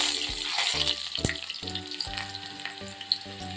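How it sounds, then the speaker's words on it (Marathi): Crushed garlic cloves frying in a few spoonfuls of hot oil over a gas flame, a bright close sizzle with rhythmic scraping and stirring strokes against the pan. "हे बघा लसूण छान परतलेली आहे"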